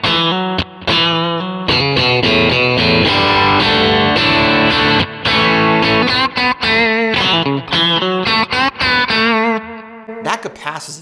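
Distorted electric guitar chords and riffs from a Stratocaster through a Kemper profile drenched in heavy reverb, loud and continuous with brief pauses, ringing notes trailing off near the end.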